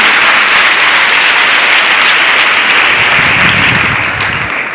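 Loud, dense applause from a crowd of students welcoming a guest at a school event at an inter college, continuous clapping throughout that tapers slightly at the end.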